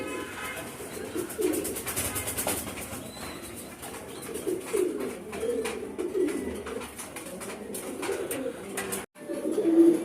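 A pair of racing pigeons coo repeatedly in low, throaty bursts close by, with a brief drop to near silence before the cooing resumes.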